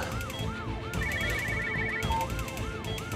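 An ambulance siren wails loud and close in a steady, repeating rise-and-fall pattern that fills the whole stretch, with no voices over it.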